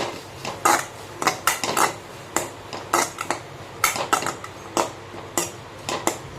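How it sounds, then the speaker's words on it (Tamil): Onions sautéing in a pan for paneer gravy, heard mainly as a metal spatula clinking and scraping against the pan in a steady, irregular rhythm over a faint low sizzle, close and without talking. "வெங்காயம் வதங்கட்டும்"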